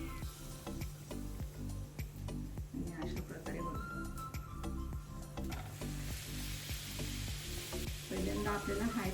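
Pumpkin gharge, a sweet fried dough, sizzles steadily in hot oil in a pan, with continuous loud crackling and occasional stirring scrapes while a person talks over it.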